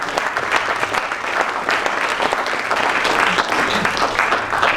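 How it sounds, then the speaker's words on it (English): An audience of guests, students and faculty applauds at an opening welcome of a university symposium, a dense, sustained wash of clapping from many hands with a faint crowd murmur underneath. "please give a big round of applause to all of you"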